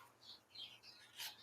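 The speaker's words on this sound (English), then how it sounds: "I'm sorry if you can hear the birds are singing crazily outside of my window there." Several birds singing outdoors beyond a window, faint and distant, with a few separate bursts of high chirping and twittering over quiet room noise.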